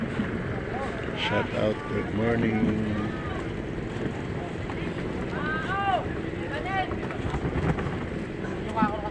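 A loaded boat approaches across the sea at a sardine fishing spot in Bulan, Philippines. Its low engine rumble is steady but partly masked by wind buffeting and people talking nearby.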